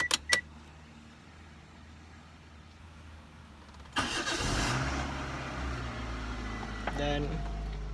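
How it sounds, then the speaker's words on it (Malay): A Perodua Myvi engine cranks and catches about halfway through, then settles into a steady idle, heard close from inside the car after a couple of clicks and quiet. "start enjin dan panaskan enjin kereta"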